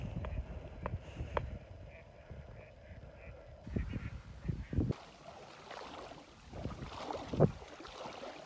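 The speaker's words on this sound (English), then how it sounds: "That's a lot of mallards." Mallard ducks at a waterfowl preserve give scattered quacks and honking calls at a moderate distance, with brief louder bursts over soft outdoor background noise.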